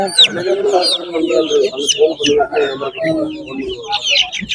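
Giriraja chickens cluck and chatter continuously nearby at a livestock market, a busy flock of overlapping calls with no talking.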